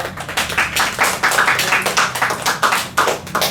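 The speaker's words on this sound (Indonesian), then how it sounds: "tepuk tangan dulu buat Lele." A small audience clapping for a guest in a casual chat session, an uneven burst of hand claps with distinct individual slaps, close and fairly loud, without talk over it.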